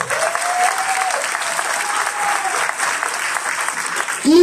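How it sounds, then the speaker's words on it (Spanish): An audience applauds a deputy at a political gathering, a steady dense wash of clapping that fills the whole stretch, loud and continuous, with a whistle-like tone rising near the end. "Les pido un aplauso para el diputado"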